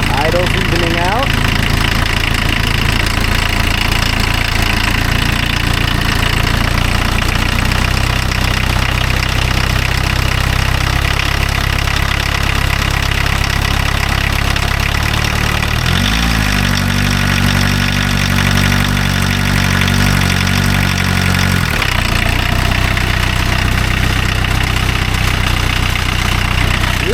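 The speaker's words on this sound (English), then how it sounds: "Idle's evening out." A VW Rabbit engine idles steadily and loudly up close, a constant rumbling drone that shifts pitch partway through as the idle evens out, with a voice talking briefly.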